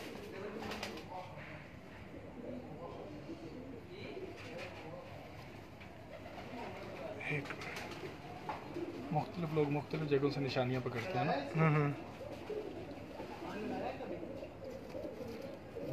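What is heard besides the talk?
pigeons cooing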